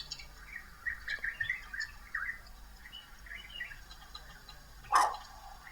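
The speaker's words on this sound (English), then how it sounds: "Some birds." Several small birds chirp and tweet in quick bursts at a distance, with one sharper, louder call near the end against quiet outdoor background.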